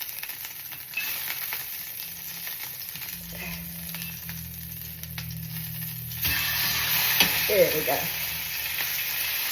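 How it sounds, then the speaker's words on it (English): Meat sears in a hot pan with a steady, soft sizzle and frying crackle, growing brighter partway through, with occasional scraping of a utensil and a brief spoken remark. "I can sear the inside of it now."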